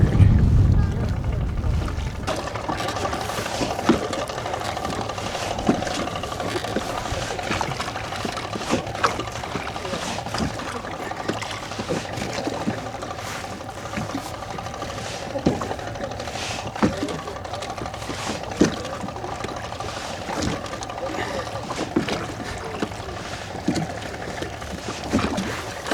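A rowboat moves along the Gorge Inlet waterway with rhythmic creaks and clicks of the oars in their locks and water swishing, close and steady over a constant background rumble; people talk at times.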